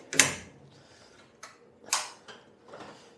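A metal tool chest drawer in a garage slides and clunks with sharp rattles and scraping, several bursts of movement close by, no talking.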